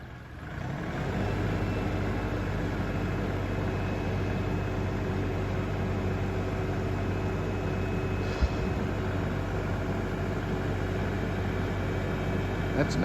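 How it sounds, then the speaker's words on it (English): A tractor pulls a log with a chain, its engine droning steadily and loud at close range, with one brief knock partway through. "Tractor's just pulling it into the bank."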